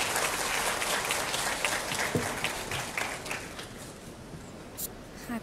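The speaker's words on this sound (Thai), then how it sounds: "ขอเสียงปรบมือให้กับทุกๆท่านบนเวทีนี้ครับ" Sustained applause from the audience at a press conference in Thailand for everyone on stage, including the rescued youth football team, dense, steady clapping that holds throughout, with a faint voice under it.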